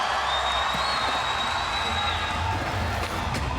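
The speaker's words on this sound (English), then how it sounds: "Listen to this crowd." Crowd at a professional street skateboarding contest cheering and clapping, a dense roar of applause and shouts with a voice heard faintly over it.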